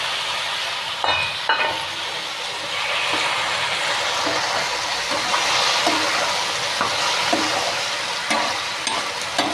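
Curry of fenugreek leaves, amaranth greens and okra with tomato pieces fries in a pan, a steady loud sizzle with occasional stirring scrapes and clicks, no voices.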